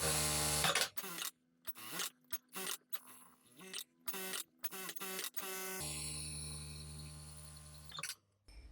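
A sewing machine stitches the edges of fabric in short bursts of rapid motor whirring, separated by pauses, and then one longer steady run near the end, all close and fairly quiet.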